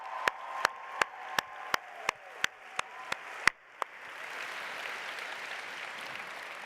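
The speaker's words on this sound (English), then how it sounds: "Let's give them a big round of applause." At the Regeneron ISEF 2024 opening ceremony, a large audience breaks into broad, even applause for sponsor Regeneron, following a run of evenly spaced sharp percussive hits, the clapping swelling and holding loud and continuous.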